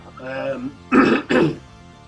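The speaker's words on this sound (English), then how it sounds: "clear my throat there." Someone clears their throat close up, a brief voiced rumble followed by two sharp, forceful rasps.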